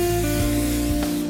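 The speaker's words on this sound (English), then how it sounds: "this is my favorite, Evian spray." A can of Evian facial water spray releases a short misting hiss near the end, heard over a steady humming background.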